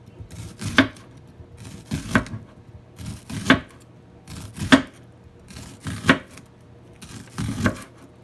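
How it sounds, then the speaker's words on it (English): A knife cuts a white onion into rings on a board, giving six evenly spaced, crisp chopping thunks about a second and a half apart, close and fairly loud, with no talking. "Then I'm going to cut the onion in circle"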